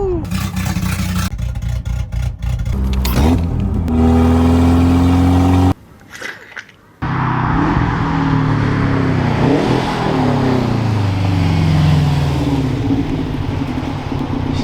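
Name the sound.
Subaru STI Type RA with Magnaflow catback exhaust revving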